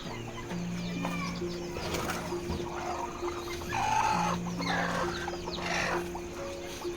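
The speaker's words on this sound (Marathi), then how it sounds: "आता इथे सुद्धा दोन कोंबड्या बसलेल्या आहेत" Hens cluck in a brooding shed for chicks during cold weather, with several birds calling near and far in short, overlapping bursts over a low background hum.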